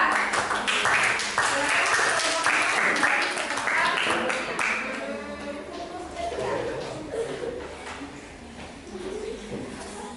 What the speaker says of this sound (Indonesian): Kita beri aplaus dulu yang mulia untuk kelompok 4